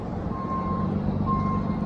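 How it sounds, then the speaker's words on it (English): A Coca-Cola delivery truck backing up gives two steady reversing beeps, close by, over the continuous low rumble of its idling engine, with no talking. "there's a Coca-Cola truck backing up behind me here"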